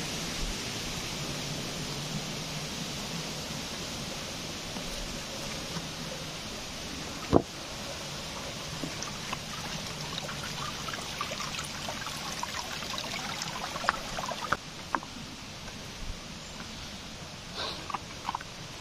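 A waterfall inside a cave pours steadily, making a broad, continuous rushing wash with a few faint clicks and knocks. It carries on alone without speech.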